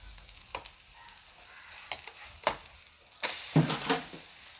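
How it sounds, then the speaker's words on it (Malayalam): Dosa frying on a hot pan, a soft steady sizzle with scattered crackles and a couple of scraping spatula strokes, growing louder and busier near the end, close up with no talk. "ഇനി നമ്മുടെ ദോശയൊന്ന് തിരിച്ചിടാം ഒരു സൈഡായിട്ടുണ്ട്"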